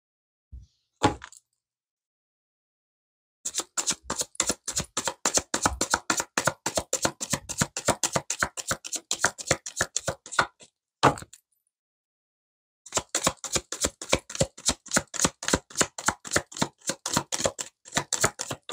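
A deck of cards is shuffled close by for a tarot-style reading, with long runs of rapid crisp riffling clicks split by short pauses and a few single taps.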